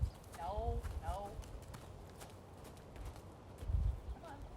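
Horse hooves clip-clop on the ground during groundwork training, a few steps in loose irregular rhythm, fairly close, mixed with a voice talking to the horse.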